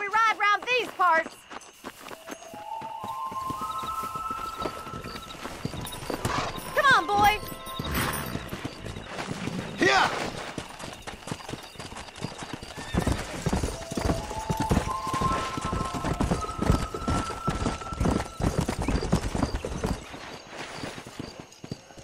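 Horses gallop in Red Dead Redemption, with fast, loud, steady hoofbeats running almost the entire time alongside jingling tack and game music, while voices talk over the ride.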